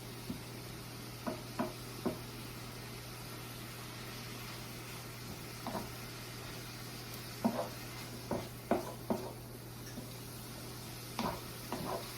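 Food cooking in a pan over turned-up heat, a steady low sizzle running throughout with scattered stirring clicks and scrapes of a utensil, fairly quiet and close, with no talking.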